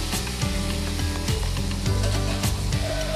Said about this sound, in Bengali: এবার আমি প্রথমেই চিংড়ি মাছগুলো ভেজে তুলে নেব।